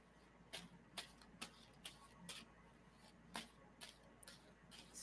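Cards being shuffled, probably a tarot deck, give quick crisp riffling snaps at irregular intervals, close and fairly quiet, over a faint low hum.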